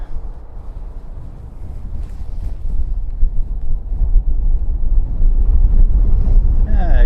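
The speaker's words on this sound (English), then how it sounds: "And here comes that wind again." Strong wind gusting at Christchurch airport, a steady low roar buffeting the microphone that builds and stays loud throughout, with no clear voices over it.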